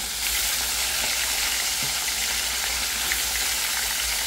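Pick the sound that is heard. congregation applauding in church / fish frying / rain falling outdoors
fish frying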